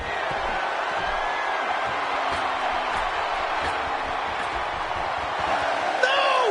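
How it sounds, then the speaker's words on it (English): A roaring wrestling-arena crowd in the WWE 2K16 video game, a constant loud wash of cheering that swells slightly near the end, with commentary voices talking over it. "This crowd's going nuts, King."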